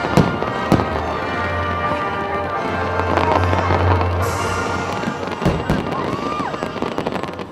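Firecrackers and fireworks exploding, sharp loud bangs and crackling pops scattered over a rumbling background, with faint voices in between.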